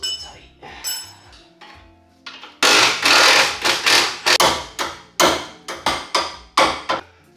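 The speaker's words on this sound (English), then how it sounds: "take a hammer, boom, hit it a couple times, eventually comes loose" Metal-on-metal hammer blows strike a wrench on a BRZ's 17 mm end link nut, a rapid series of loud, sharp clanks after a short quieter stretch with a few lighter taps.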